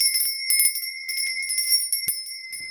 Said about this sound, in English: I have my bell.